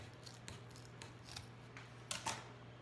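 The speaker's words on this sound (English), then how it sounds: "I'm going to go ahead and trim it off." Scissors snipping deco mesh while making a Valentine's Day wreath: faint, close crisp cuts spaced roughly every half second, ending in a couple of slightly louder snips over a low steady hum.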